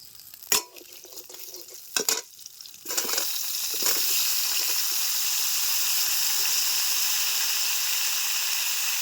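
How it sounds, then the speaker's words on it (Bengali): Vegetables go into a little oil in a rustic kitchen after crabs are fried: a few sharp clatters, then a steady, bright sizzle that carries on evenly and alone. "দিয়ে দিচ্ছি একটুখানি তেল সবজিগুলিকে আমি হালকা ভেজে নেব"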